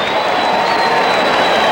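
A boxing crowd at Madison Square Garden cheers and applauds steadily at the Hector Camacho vs Edwin Rosario fight, a loud, dense, unbroken roar of clapping and voices that fills the whole moment.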